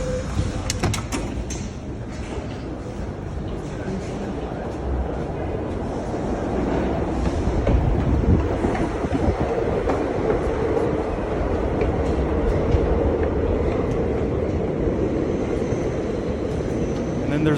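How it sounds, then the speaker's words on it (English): A New York subway train rumbles steadily along the tracks with a loud, continuous roar and rattling carriage noise, and people talk over it. "They're on the subway."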